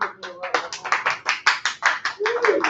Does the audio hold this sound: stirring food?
no